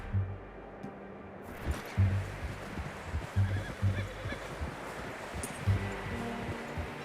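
A horse neighs in Red Dead Redemption 2, a few whinnying bursts and hoof clops over a steady outdoor game ambience, fairly close and moderately loud, with no talk.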